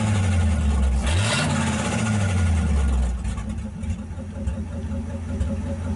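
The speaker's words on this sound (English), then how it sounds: "Revs up fast, I like that." Cadillac flathead engine in a 1931 five-window car revs up quickly from idle in a short, rising burst, then falls back to a steady low idle rumble nearby.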